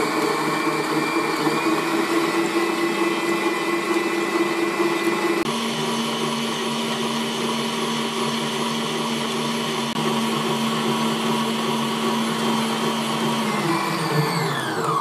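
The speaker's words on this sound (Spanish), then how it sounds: "Y ahora echamos el azúcar. Y tiene que estar batiendo 20 minutos." An electric mixer beats sugar for a Genoese sponge cake batter, giving a loud, steady motor whir that runs on without a break. Partway through, the pitch shifts slightly.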